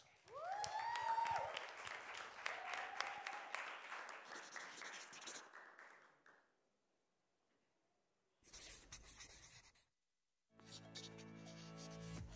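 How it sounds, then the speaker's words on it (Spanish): Audience applause at a Mexican advertising professionals' congress: dense clapping for about six seconds that fades out, followed by near silence and two later bursts of sound. "Recibámosla con un fuerte aplauso"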